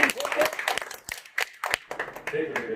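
Brief applause at a row-house housewarming and mother-honouring gathering in Surat, scattered clapping in short bursts mixed with a speaking voice over it.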